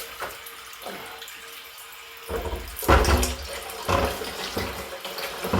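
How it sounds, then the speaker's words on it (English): Water from a tap runs into a sink being filled for home beer brewing. It begins as a thinner trickle, then swells into a fuller, louder gush partway through and keeps pouring steadily up close with no speech. "we're going to put it down here in this sink and fill it up"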